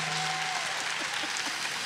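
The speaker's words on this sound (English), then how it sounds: "Give it up. Clap." A live event audience claps briefly, a soft, fairly distant patter of applause lasting under two seconds with no one speaking over it.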